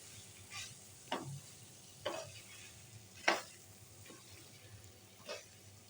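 Raw mango chutney mixture roasting in a pan, a faint background sizzle with a few sharp scraping stirs spaced about a second apart, close but quiet.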